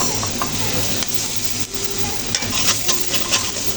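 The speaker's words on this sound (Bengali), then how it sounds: "বেটে রাখা পেঁয়াজগুলো চুপ করে দিলাম পেঁয়াজগুলো ভালো করে কষে নিতে হবে" Ground onion paste fries in oil for a small fish curry, a dense continuous sizzle with soft scraping stirs of a spatula against the pan throughout.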